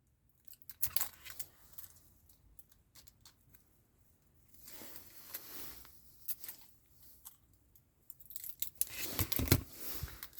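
Scissors snip in quiet, irregular bursts of short crisp cuts while assembling a 1:8 scale Ford Gran Torino model, a louder cluster near the end.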